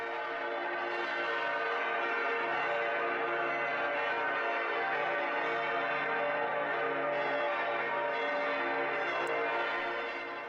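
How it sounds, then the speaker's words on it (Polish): Large church bells ring continuously from two towers in Würzburg in a rich, overlapping peal, loud and sustained with no pauses or voices. "Takim dźwiękiem grzmią dzwony z obu wież."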